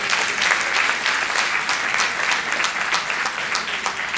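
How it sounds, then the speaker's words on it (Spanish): A church congregation applauds in a steady, dense wash of clapping throughout, even and moderately loud, without a clear rise or fall. "Dale un aplauso al querido."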